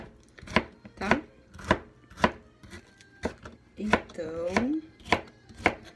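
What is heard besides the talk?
knife chopping vegetables for pickles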